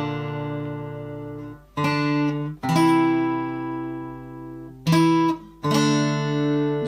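Guitar plays the second build of a song from The Last of Us Part II, ringing chords struck in a few separate strums that sustain and decay, played alone and close.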